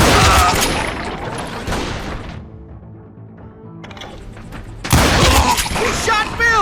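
Loud gunfire and shattering crashes burst out in the Western shooter game Call of Juarez Gunslinger, with a quieter lull between volleys and game voices shouting over the shots.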